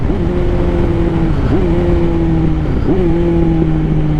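A 160-horsepower motorcycle engine drones loudly and steadily while riding twisty street roads, holding a sustained tone with brief rises in pitch at each throttle change, close and alone with wind rush.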